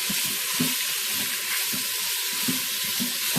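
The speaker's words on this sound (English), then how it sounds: "it's searing pretty quickly" Beef searing in a pot for a beef and butternut squash chili, a steady, hissing sizzle with soft periodic bumps and stirring, close and continuous.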